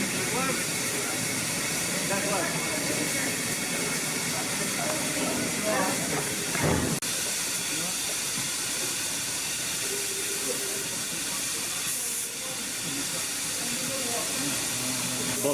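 Steam locomotive Tangmere standing at the head of The Dalesman, its steam hissing as a broad, steady wash throughout, with faint rail and platform sounds and a brief burst near the middle.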